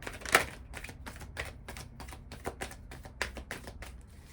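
Oracle cards of the masculine being shuffled and handled at close range, a quiet run of soft, uneven slaps and riffles with one sharper snap near the start.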